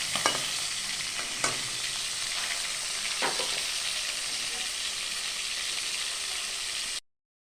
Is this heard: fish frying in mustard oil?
yes